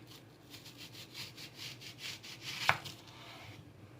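A sharp knife saws rhythmically through a vegetable on a board while cutting slices for bajji, with steady close strokes and a sharp thunk near the end, and no talk.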